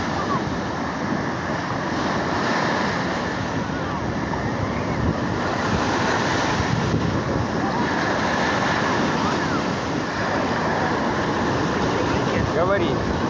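Azov Sea surf washes steadily onto the shore, a continuous loud rush mixed with wind buffeting the microphone, while someone talks over it.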